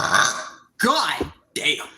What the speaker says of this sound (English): That was a burp that rumbled the heavens.